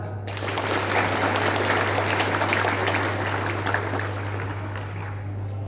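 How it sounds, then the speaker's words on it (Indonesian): Students at a vocational high school character-building drill clap together in a loud, sustained burst of applause that fades near the end, over a steady low electrical hum. "Tepuk tangan."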